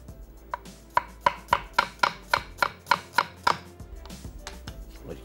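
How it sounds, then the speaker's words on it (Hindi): A knife finely chopping an onion on a cutting board, a quick run of about ten crisp, evenly spaced chops, close and clear, with fainter scraping before and after. "और ये प्याज आ गई बारीक कटी हुई"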